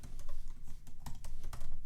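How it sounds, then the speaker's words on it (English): Rapid, fast typing on a computer keyboard, a dense run of crisp key clicks with a few sharper taps, close and steady for about two seconds with no talking. "Typing too fast."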